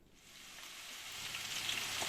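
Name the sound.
starch-coated eggplant frying in hot oil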